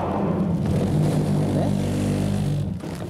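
A car accelerating too hard toward the apex of a corner and spinning out, a loud close engine drone with rising revs and tyre rumble that eases off near the end.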